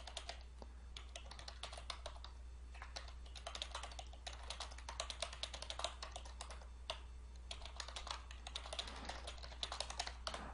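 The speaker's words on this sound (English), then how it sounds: "then you can go ahead and type in your message" Continuous typing on a computer keyboard while entering a staff message, with steady clusters of quick, light key clicks over a constant low hum, close and fairly quiet, with no talking.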